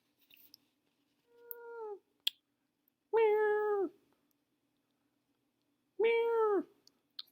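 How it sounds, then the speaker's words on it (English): A frightened cat cries out in three separate drawn-out meows, each rising then falling, fairly close and clear with short silent gaps between them and no talking. "Clark could hear a scared cat cry from far away."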